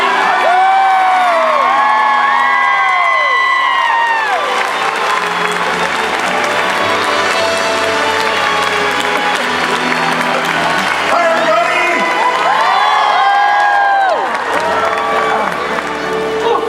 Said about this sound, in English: Lords and ladies, please give a robust royal round of applause for the Prince of Public Relations for Disneyland